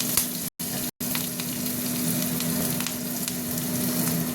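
Green chilies and fish roe fry in hot oil with a steady, dense sizzle and crackle throughout, broken by two brief silent gaps near the start.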